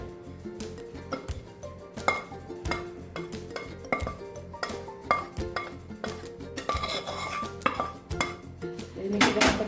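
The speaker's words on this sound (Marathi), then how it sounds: "आता हे मिश्रण आपण सर्व यामध्ये ओतून घ्यायचं" Ragi and jaggery mixture scraped and poured from a pan into a half-greased plate, with repeated loud metallic clinks and scrapes of a utensil against the vessel in an irregular rhythm, close by.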